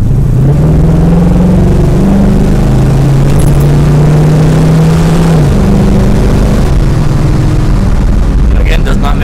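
A car engine revs up and pulls hard under acceleration, its rising, falling drone heard close and loud for several seconds before easing off, with wind rush across it.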